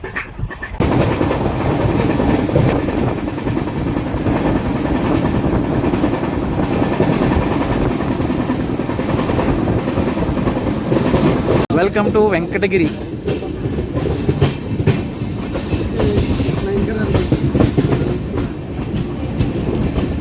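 The Padmavathi superfast express, fitted with new LHB coaches, rumbles loudly and continuously into Venkatagiri railway station with clattering wheels and a brief squeal, while a person talks over it.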